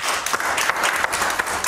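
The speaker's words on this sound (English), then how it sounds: "Give the Lord a hand clap this morning." A church congregation claps its hands during a Sunday morning service, a dense, steady patter of many hands filling the room with no voices on top.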